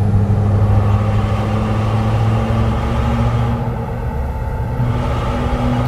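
A V8 Scania truck engine in Euro Truck Simulator 2, fitted with a sound mod, holds a loud, deep, steady rumble close by, with only a slight dip in level partway through.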